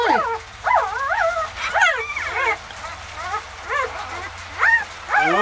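Five-day-old puppies whimpering and yipping in high, wavering cries, several overlapping calls close by over a low background hum.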